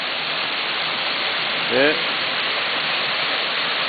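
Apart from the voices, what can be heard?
Trail Canyon Falls waterfall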